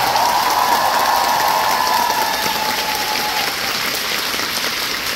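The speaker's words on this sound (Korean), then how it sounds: "다시 한번 박수 부탁드립니다" A concert audience at a live show applauds in a dense, steady wash of clapping that carries evenly through the whole stretch and eases off slightly toward the end.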